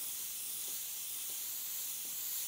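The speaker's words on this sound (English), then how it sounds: "Spraying very" Airbrush spray paint hissing steadily over a stencil while adding texture to a jacket, a soft continuous airy hiss held close throughout with a few faint clicks underneath.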